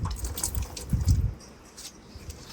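Water being sprinkled lightly onto plants, a short burst of close splashing and dripping patter that fades into faint trickles.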